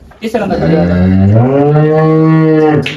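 A cow lets out one long, loud moo, close and deep, rising slightly in pitch before trailing off.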